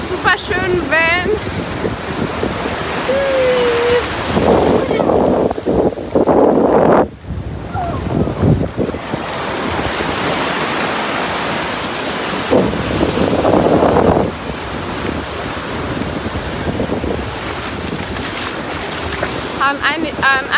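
Waves break and wash onto a rock-free stretch of beach at Tankah, Tulum, Mexico in repeated surges, with strong wind buffeting the microphone and occasional voices in the background.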